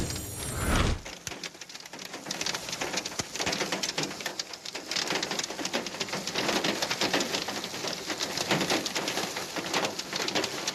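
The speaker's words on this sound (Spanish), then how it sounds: "una tormenta de granizo afectó la meseta central y el occidente del país" A hailstorm over Costa Rica's central plateau, heard as dense, continuous pattering and drumming of ice and rain on surfaces, loud and unbroken throughout, with no talk.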